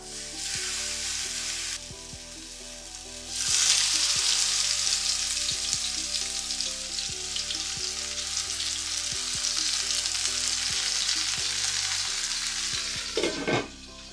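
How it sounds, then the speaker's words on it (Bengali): Hilsa patturi wrapped in bottle gourd leaves sizzles in a hot pan, a steady close frying hiss that swells loudly after a few seconds and holds, with light clinks of utensils and no talk. "ইলিশ পাতুরিটা লাউ পাতা দিয়ে মোড়ানো হয়েছে, এখন আমি এটাকে দিয়ে দিব চুলায়"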